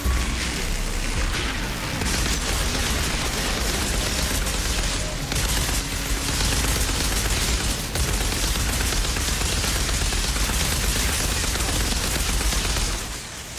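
Dense, sustained gunfire from the Outriders co-op shooter, bursts of rapid shots and booming impacts layered continuously throughout with no pauses.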